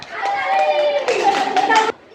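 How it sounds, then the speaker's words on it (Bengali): A class of schoolchildren claps hands together in a classroom, a quick burst of many claps lasting under two seconds, with children's voices mixed in. "ওর জন্য একটা ধন্যবাদ সবাই হাততালি দাও"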